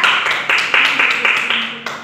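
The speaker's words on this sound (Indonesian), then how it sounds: "Tepuk tangan kepada Tiara." Children in a third-grade classroom clap together in short bursts, a few loud rounds of hand claps lasting about two seconds, close and alone with no talk over them.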